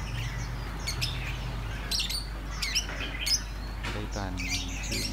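A caged red-whiskered bulbul in a bird shop in Bac Giang, Vietnam, gives a few bright, sharp calls and warbling squawks at close range over a low hum of room noise.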